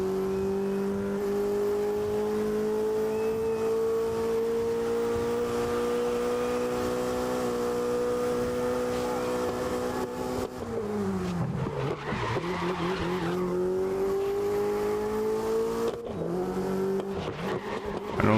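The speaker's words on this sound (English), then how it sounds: "With this car you can do very crazy cornering, like drifting and everything" Racing car in a video game sweeping through corners, a sustained engine drone rising and falling in pitch with bursts of tire squeal as the car drifts, loud and continuous with no speech.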